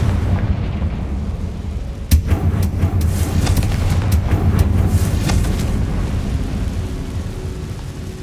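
Confringo blasting spell in Hogwarts Legacy, a sharp explosive crack followed by a dense, rumbling crackle of blasts and debris that rolls on loudly for several seconds, with no talk.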